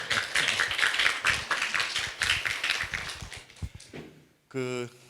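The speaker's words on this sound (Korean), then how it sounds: "일단 박수부터 한번 부탁합니다" An audience at an environmental lecture series claps to welcome a guest lecturer; scattered, fairly dense clapping fills the first four seconds, then fades out, followed by a short voiced sound at the end.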